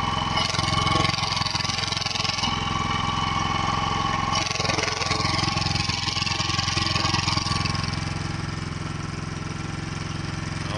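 A Predator 3500 inverter generator with an exhaust muffler fitted runs on its first start, a steady mid-pitched engine drone that holds at an even level and eases slightly toward the end.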